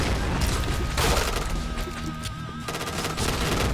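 Rapid automatic gunfire from the shooter game Point Blank, a dense continuous burst of shots with booming impacts throughout, loud and close, with no talking.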